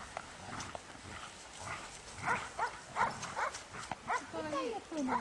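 A wolfdog growls and whimpers during defence training, a series of close, uneven rumbling growls and whiny yelps mixed with people talking nearby.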